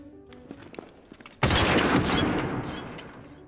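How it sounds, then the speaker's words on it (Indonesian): Gunfire from the war film Enemy at the Gates: a sniper shot erupts as a sudden loud blast after a quieter stretch with faint voices, then rumbles and decays over the next two seconds. "Kolikov tertembak headshot oleh Mayor Konik"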